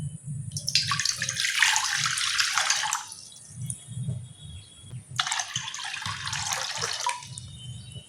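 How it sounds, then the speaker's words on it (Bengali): A tap runs over cut potatoes being washed in a bowl, sounding as two long, close gushes of splashing water with a quieter stretch between them and small clinks and sloshes of handling in the gap. "এবার আলুগুলো পরিষ্কার করে ধুয়ে নেব।"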